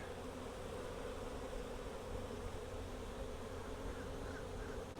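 Honey bees from a confused swarm, gathered around a clipped queen near a nuc box, make a steady, dense buzzing drone close by without pause.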